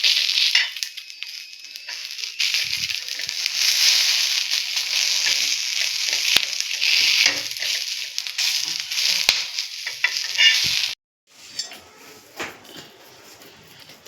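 Chopped garlic hitting hot oil in a pan while cooking bombil thecha, a Bombay duck chutney, giving a steady, bright sizzling hiss that runs close and fairly loud for about eleven seconds before dropping to a quieter crackle.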